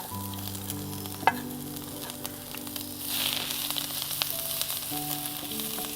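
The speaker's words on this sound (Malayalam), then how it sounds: "ഇനി ഇതിലേക്ക് നമ്മൾ അരിഞ്ഞു വെച്ച ഇഞ്ചി ചേർത്ത് കൊടുക്കാം" Chopped ginger frying in oil for a Kerala inchi dish, a steady soft sizzle with occasional stirring clicks, one sharp knock early and a brighter hiss swelling midway, accompanied by a sustained background tone.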